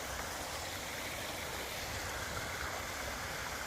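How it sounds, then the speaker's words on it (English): Water spills over a small stepped waterfall on a hiking trail, a steady broadband rushing and splashing, fairly faint and unbroken, with no voices. "I like the way they've stepped it down as well, to create a little waterfall."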